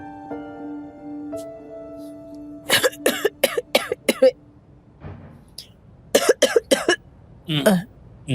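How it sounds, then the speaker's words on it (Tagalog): A person coughs in several rough bursts, separated by pauses, over a faint sustained musical tone at the start. "Akala ko ba maayos na ubo nyo?"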